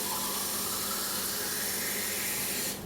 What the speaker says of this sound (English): Then you fill the cup up with water.